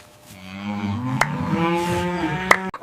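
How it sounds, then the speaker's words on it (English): A cartoon cow lets out a drawn-out, tonal moo that bends in pitch and fills the short clip, with a couple of sharp clicks punctuating it. "Cow happy!"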